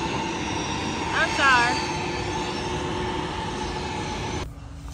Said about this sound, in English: That plane is getting ready to push. Can y'all hear me? It's so loud.